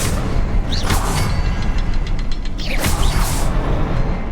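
A Confringo fire spell bursts in Hogwarts Legacy, with loud whooshing blasts and booming impacts over a dense, rumbling game soundscape, two swells of energy a couple of seconds apart.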